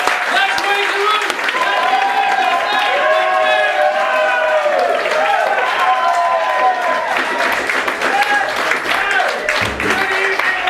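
Live comedy club audience clapping throughout, a dense steady wash of applause with voices and crowd noise mixed in, loud and sustained for the whole stretch.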